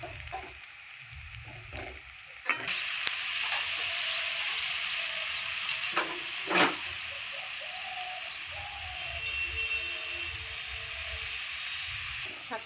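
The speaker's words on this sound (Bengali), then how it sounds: "ওলটা খুব সুন্দর করে এইভাবে ভেজে নেবেন" Elephant foot yam frying in a pan, a soft continuous sizzle with occasional stirring scrapes and clinks, and faint bird calls in the background.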